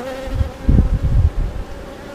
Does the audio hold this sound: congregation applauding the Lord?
no